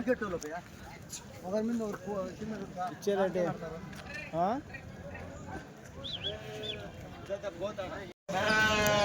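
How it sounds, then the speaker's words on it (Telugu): Nellore Jodipi sheep at a busy weekly sheep and goat market in Kadiri bleat repeatedly, several animals calling near and far throughout, mixed with people talking over the crowd. "నెల్లూరు జుడిపి గొర్రెలు అండి ఎన్ని ఈతల గొర్రెలు ఉన్నాయి"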